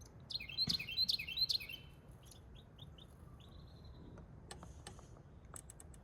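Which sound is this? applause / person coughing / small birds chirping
small birds chirping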